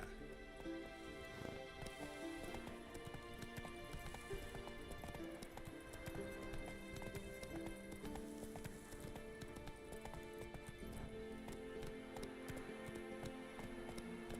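Geralt's horse Roach galloping in The Witcher 3, rapid rhythmic hoofbeats thudding steadily and fairly close over a low music bed.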